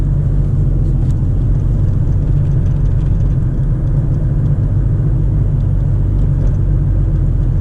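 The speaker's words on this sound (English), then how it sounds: "Now I can hear my rumbly exhaust." Rumbly car exhaust heard from inside the vehicle, a loud, steady low-pitched drone that continues without a break and with no voices.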